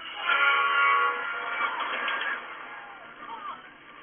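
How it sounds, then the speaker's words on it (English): A train horn blares with rumbling rail noise, loud and close, fading somewhat toward the end; a voice is briefly heard. "why are we chasing a runaway train?"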